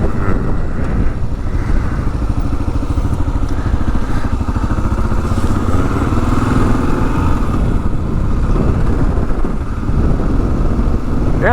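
A 2022 Kawasaki KLR 650 dual sport motorcycle underway, its single-cylinder engine droning steadily and loudly throughout with a dense, rumbling exhaust note and road noise, no talking.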